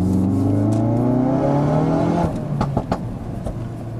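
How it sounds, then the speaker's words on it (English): A 520bhp Ford Focus RS engine revs hard with a rising intake roar and whoosh, then eases off with a few sharp pops and a steady idle-like rumble. "you get this great suction sound as the car takes a lungful of air"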